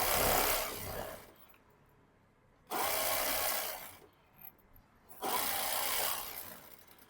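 A sewing machine stitches a half-inch-margin sleeve seam in bursts: three loud runs of rapid mechanical whirring, separated by quiet pauses with faint handling of the fabric, no voice.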